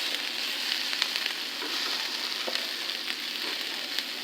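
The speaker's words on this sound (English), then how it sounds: "The garlic's cooking in pretty good." Garlic and onions fry in a pan, a steady, moderately quiet sizzle with light crackles and a few faint ticks, heard close and alone without any voices.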